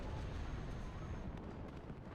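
A big explosion rumbles in the WARNO military strategy game, a dense low-heavy roar that sustains and slowly fades over a couple of seconds.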